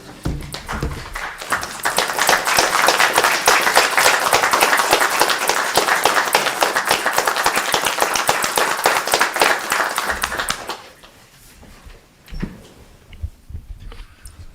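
A city council meeting audience gives a standing round of applause, dense steady clapping filling a room for about ten seconds before dying away into scattered claps and quiet.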